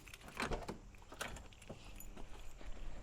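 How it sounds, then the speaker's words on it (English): Car keys jangle and clink in short bursts, close and fairly clear, over a low background rumble, just before starting a Pontiac Fiero GT. "So we're gonna need some keys"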